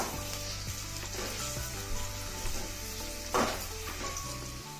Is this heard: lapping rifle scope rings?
no